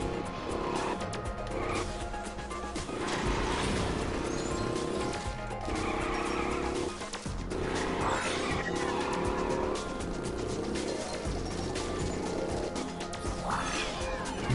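A small car in the video game LittleBigPlanet drives on, its engine droning steadily with tire squeals and skids mixed in, with no talking.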